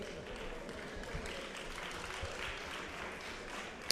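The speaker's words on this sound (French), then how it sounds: "On peut les applaudir aussi bien fort." Applause from an audience at a robotics competition ranking announcement, a steady even wash of clapping for about four seconds, moderately distant and fairly quiet.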